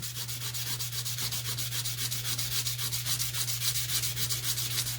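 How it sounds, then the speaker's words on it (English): Fast, even rubbing strokes of sandpaper on the bottom of a metal jewelry bezel, a continuous close scratchy rhythm over a low steady hum, with no speech. "I tend to have better luck sanding the bottom of my bezels versus filing them."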